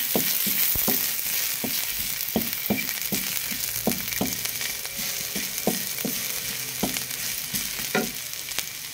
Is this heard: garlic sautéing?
yes